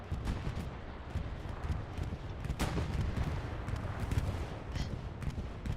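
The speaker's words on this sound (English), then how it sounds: "I would guess that is a DC bombing run" Bombing run in the game Hell Let Loose: a dense, continuous roar of rumbling explosions and crackling blasts, heavy and sustained throughout, with a few sharper bursts standing out.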